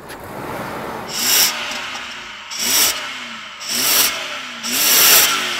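A 3.6 litre V8 car engine revs up four times in a steady rhythm, each sharp roar dropping back to a low idle between bursts, close and loud.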